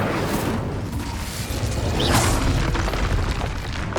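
The Incendio fire spell in Hogwarts Legacy gives a loud booming, whooshing burst of flame over a dense, rumbling battle background.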